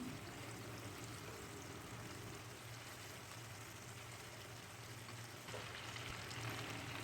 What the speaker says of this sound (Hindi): तो तेज़ आंच पे हमने चिकन को अच्छे से फ्राई कर लेना है 1 से 2 मिनट एक साइड को